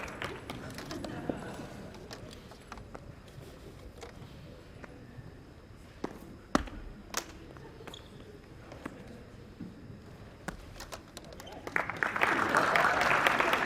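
Audience applause following a juggling trick, a soft, steady patter of claps through most of the stretch that swells louder near the end, with scattered louder taps.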